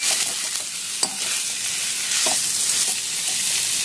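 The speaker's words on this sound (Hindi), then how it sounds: "अब हम इसमें बॉईल की हुई सब्जी ऐड कर देंगे और अच्छे से मिक्स कर लेंगे।" Boiled vegetables for aloo beans sabji are stirred into sizzling masala in a pan. A steady loud fry hiss carries utensil scrapes and a few sharp taps, with no talking.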